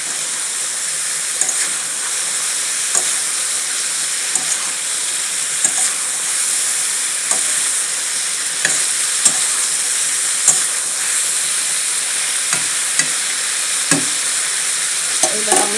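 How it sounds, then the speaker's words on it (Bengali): Eggplant pieces fry loudly in a pan, a dense continuous sizzle with frequent scraping stirs and spatula taps scattered throughout, close up and with no voices. "এইবার আমি বেগুনগুলো দিয়ে দেব। বেগুনগুলো দিয়ে একটু নাড়াচাড়া করে আমি জল দিয়ে দেব।"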